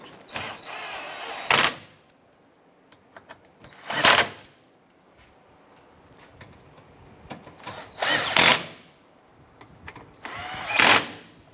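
A power tool snugs down bolts on a 2015-2020 Cadillac Escalade during rear parking sensor work, firing in four short, loud, close bursts spaced a few seconds apart, with faint handling clatter in the quiet gaps and no talking.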